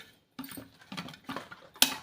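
Sliced onion being mixed with salt in a pot, a few short scraping, clinking stirs in quick irregular bursts, close and fairly quiet, ending on a sharper knock.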